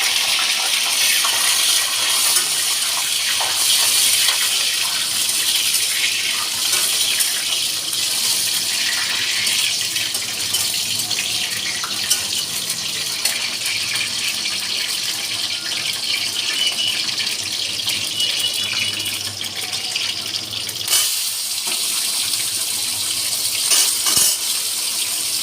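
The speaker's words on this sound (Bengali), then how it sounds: "একটু হাতটা ধুয়ে নিই।" Tap water runs steadily into a sink while hands are rinsed, a continuous close gushing hiss with a short break near the end, heard alone in a home kitchen.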